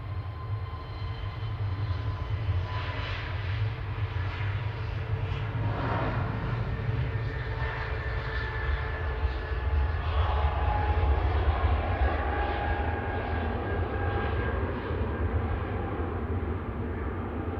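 A steady, loud roar from a nearby Airbus A320neo airliner's engines at Manchester Airport, broadband rumble with a faint whine, constant throughout without any voices.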